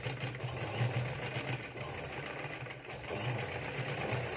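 A sewing machine runs steadily while stitching a cord onto a blouse neckline, its motor humming with a continuous low mechanical drone and no talk.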